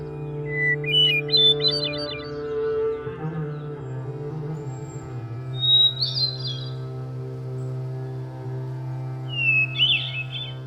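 Hermit thrush song heard as a few short, high, fluting phrases spaced several seconds apart, sounding fairly distant over a steady low drone.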